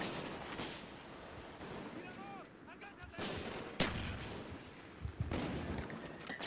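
Pistol fire in the shooter game Call of Duty: Black Ops, a few sharp broadband shots around a noisy game mix with background voices and gameplay chatter.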